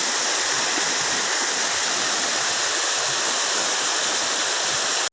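Rushing water roars continuously at Marayoor waterfall in Kerala, a loud, dense, unbroken wash of falling and flowing water with no voices over it.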